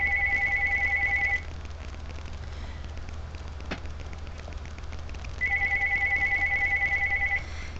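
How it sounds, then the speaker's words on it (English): A telephone rings in two electronic trilling bursts, one at the start and another near the end, with a quiet roomy pause between them and a single sharp knock in the middle; no one speaks. "Yeah, the phone's ringing."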